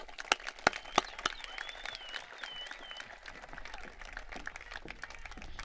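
A crowd at an 8th grade promotion ceremony gives scattered, fairly faint applause, with a few close sharp claps at the start and a thin patter continuing, while a voice speaks briefly over it.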